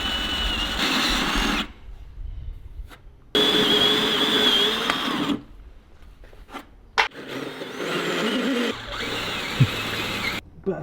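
A riv nut tool on a slower speed setting runs in several separate bursts of whirring drive, each stopping abruptly with quiet gaps between, close by during a Land Rover Defender build.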